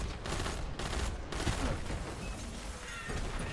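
Enemy boomer weapons in Destiny 2 fire a dense, nonstop barrage of heavy blasts, with rapid overlapping booms and crackling gunfire filling the whole stretch.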